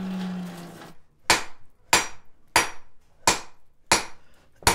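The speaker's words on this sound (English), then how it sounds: "we're gonna forge a chisel end on it of sorts" A hammer forges a chisel end on 3/4 inch octagonal steel bar, five sharp, loud ringing blows at an even rhythm of roughly two-thirds of a second, close up, after a brief low hum.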